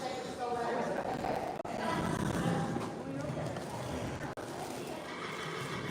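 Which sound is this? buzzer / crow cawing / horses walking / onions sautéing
horses walking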